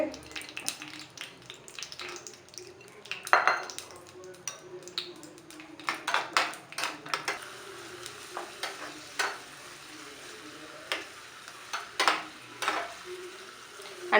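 Raisins frying in coconut oil and ghee for rava kesari make a soft, steady sizzle close by, broken by frequent crackling pops and stirring scrapes.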